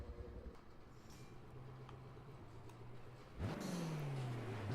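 Koenigsegg Regera hypercar in Forza 7 on a quarter-mile run, a low engine hum that surges into a loud rising whine as it accelerates hard, then pitch sweeps on through the pull.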